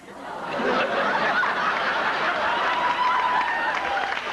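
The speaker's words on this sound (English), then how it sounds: "You can hear the crowd." A large live television studio audience cheers and applauds for a 30th anniversary in show business celebration, a dense sustained roar of clapping mixed with laughter and whoops, loud and continuous throughout.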